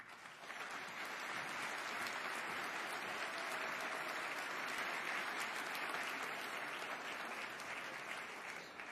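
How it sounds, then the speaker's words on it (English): Steady, faint applause from a conference audience at CERAweek greets Chevron CEO Mike Wirth, an even wash of clapping that runs unbroken for about nine seconds with no talk over it. "I think it was applause for your opening remarks."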